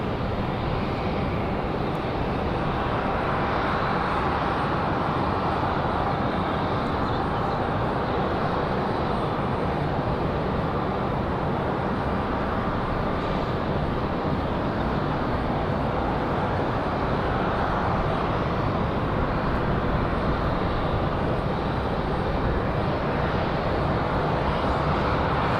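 An airliner arriving at Raleigh Durham International Airport produces a steady, broad jet engine roar that holds loud and constant throughout, with no distinct voices.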